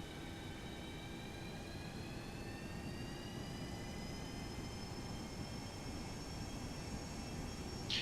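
Jet engines of a FlyJSim 732 TwinJet in the X-Plane 11 flight simulator spool up for takeoff, a steady rumbling roar with rising whining tones, heard alone at moderate level.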